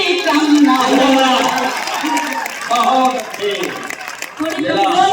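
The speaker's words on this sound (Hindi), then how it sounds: "थोड़ी तालियां लगी" An audience claps and cheers at a Hindi-Urdu poetry recital (mushaira), with broad crowd applause running throughout under a prominent voice.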